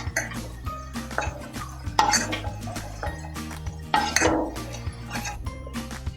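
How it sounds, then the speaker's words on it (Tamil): Fried raw turmeric is moved onto another plate, a few sharp clinks and scrapes of utensil against dishware, close by, with quiet gaps between the knocks. "இனி நம்ம வந்து அதை வேறு ஒரு பிளேட்டுக்கு மாற்றிக்கலாம்."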